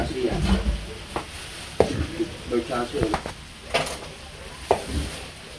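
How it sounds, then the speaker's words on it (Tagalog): Food being stirred in a pan while cooking in bulk for delivery orders, with intermittent scrapes and clinks of the utensil over a gentle sizzle, and people talking in between. "Ayan po at hinahalo na ni Kika"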